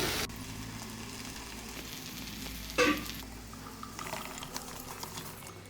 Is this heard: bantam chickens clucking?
no